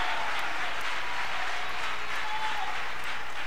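A church congregation claps together in sustained, dense applause throughout, loud and even, with no speech over it.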